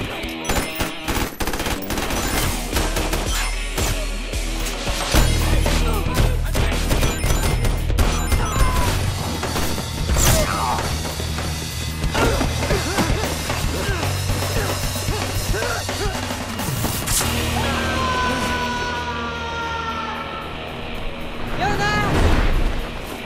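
Automatic gunfire and bursts of shots in an action movie shootout, loud and continuous over a dense score and crashes, with shouted voices mixed in.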